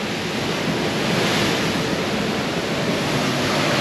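Ocean waves surge through a sea cave at Oualidia, Morocco, in a loud, continuous, close-up roar of rushing, churning water with no talking.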